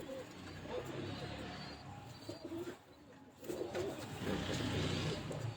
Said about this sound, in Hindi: हमाद भाई का गोल्डन कबूतर है जी, और बहुत मजबूत कबूतर और बड़ा ताकत वाला कबूतर है माशाल्लाह।